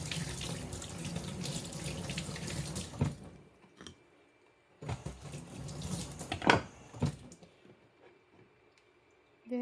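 Tap water runs into a sink while fresh abalone is washed in a kitchen, steady splashing that stops and restarts with a few clinks and knocks, close by and moderately loud.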